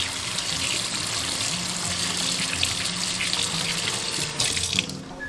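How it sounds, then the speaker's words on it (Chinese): Tap water runs into a sink while pork belly is washed under it, a steady close splashing rush with slight shifts as the meat is moved, easing off at the very end. "现在我们可以把五花肉洗起来。"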